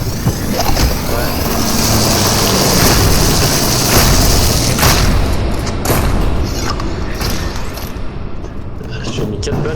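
Rapid gunfire at explosive barrels in a video game, a dense loud burst of repeated shots and booms at first that thins out toward the end.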